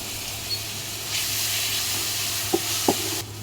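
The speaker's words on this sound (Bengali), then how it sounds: "এখন আমি এর মধ্যে 2 চামচ রসুন বাটা দিয়ে দিলাম।" Garlic paste goes into hot oil over already-reddened fried onions in a pan, giving a short steady sizzle and hiss with two sharp utensil taps near the end, close and unaccompanied by speech.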